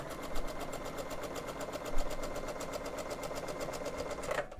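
A sewing machine stitches through gingham quilt fabric in a fast, steady mechanical chatter of evenly spaced needle strokes, close and moderately loud, stopping near the end.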